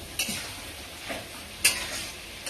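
Spices and turmeric are stirred in a frying pan, with a soft sizzle under several sharp metallic scrapes and clinks of the utensil against the pan, heard close and without speech.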